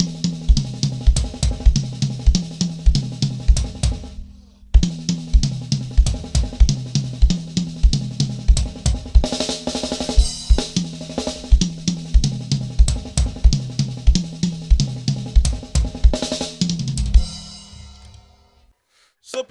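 A drum kit plays a fast, sped-up 32nd-note chop pattern, loud and dense with driving kick and snare hits, briefly pausing midway before rolling on and fading into a cymbal wash at the end.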